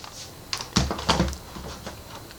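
Typing on a keyboard connected to a Netia Player: a short run of four or five close, crisp key clicks in a quiet room.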